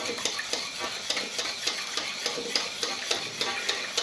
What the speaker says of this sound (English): very gently, slowly whisk this milk in.